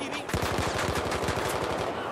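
Rapid automatic gunfire in the video game Battlefield 4 during a tournament match, a fast string of evenly spaced shots lasting about two seconds, close and fairly loud.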